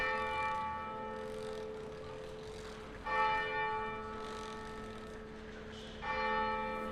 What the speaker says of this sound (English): we've just been listening to the bells of the hidden gem